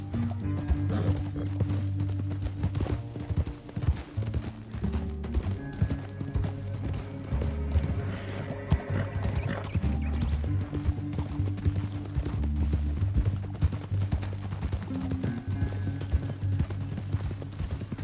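Steady clip-clopping horse hooves in the video game Red Dead Redemption 2 trot along under a continuous musical score, loud and rhythmic throughout, with no talking.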